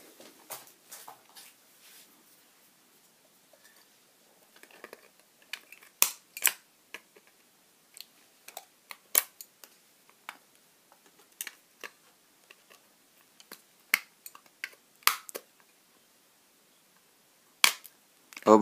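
Sharp, scattered snips and clicks of cables being cut from a switch while taking apart an AV screen, irregular and close, with quiet handling noise between cuts and no talking.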